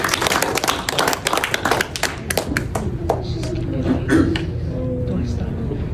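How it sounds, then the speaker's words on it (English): At a 5th grade boys leadership award ceremony at Northgate Intermediate School, an audience claps for a student, with brisk close clapping for about three seconds that fades under a murmur of voices. "Clap it up for Mubarak."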